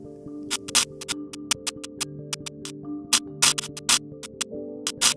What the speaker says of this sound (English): the sound you are hearing is actually the radio waves produced by the lightning converted to audio